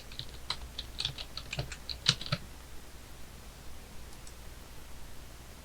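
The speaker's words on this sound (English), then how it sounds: "If I now type the correct password" Password being typed on a computer keyboard: a quick run of soft, close key clicks in an irregular rhythm, then quiet room hiss after the keystrokes stop.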